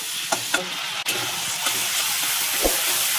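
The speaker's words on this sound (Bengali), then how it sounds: "এই পর্যায়ে আমি ইলিশ মাছের যে তেলটা ছিল সেটা এবার দিয়ে দিচ্ছি" Hilsa fish oil poured into a pan of tempering spices, sizzling loudly and continuously, with a few short clinks and stirring knocks over the steady hiss.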